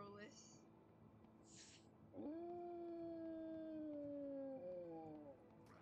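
A wolf howls in the survival video game HumanitZ, one long sustained wavering howl rising clearly over quieter game ambience after a few short sounds.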